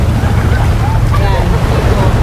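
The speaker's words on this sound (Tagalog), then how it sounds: "Sakay kami ng bangka." Continuous roar of wind buffeting the microphone over a boat's rumble and splashing sea, loud and steady throughout, with faint voices underneath.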